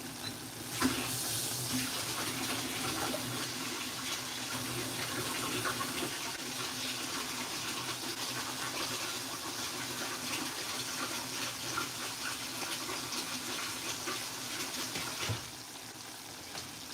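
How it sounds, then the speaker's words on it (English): Water being drained off cooked pasta noodles while making chicken Alfredo, a steady broadband rush of pouring and splashing water that runs continuously for most of the stretch with no talk. "I'm going to take the water off these noodles"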